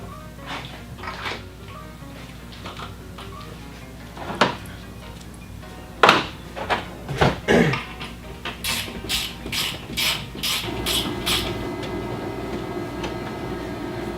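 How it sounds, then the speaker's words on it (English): Lag bolts being driven into pre-drilled holes to mount a box, with scattered knocks and clicks followed by a close, steady run of rhythmic ratcheting clicks. "Now I've already pre-drilled my holes for my lag bolts, so we need to just go ahead and get them in place."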